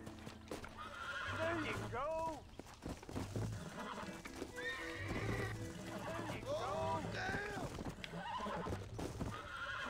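Horses in the Red Dead Redemption video game neigh and whinny repeatedly with several distinct calls, mixed with hoof clip-clops, while someone talks over them.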